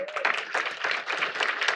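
Audience applause at an international symposium on literacy and early childhood education, a moderate wave of clapping in a hall with a voice briefly audible over it.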